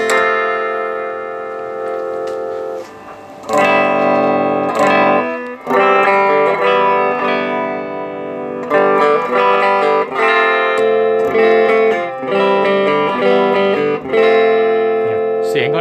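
Heavily distorted Gibson Studio USA electric guitar with low action playing sustained chords and riffs, loud and close, with a few brief pauses between phrases.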